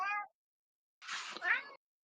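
A cat meows twice, loud and close: one short cry, a pause of about a second, then a longer, wavering call, with silence around them.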